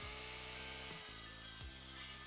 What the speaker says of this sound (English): I'm using the miter saw to make all the rest of the cuts